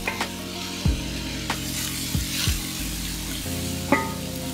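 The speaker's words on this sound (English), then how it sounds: "we can see and hear that beef sizzling" Seasoned beef searing in canola oil in a skillet preheated over medium-high heat: a steady, loud sizzle and crackle with a few clunks and scrapes of the meat and pan.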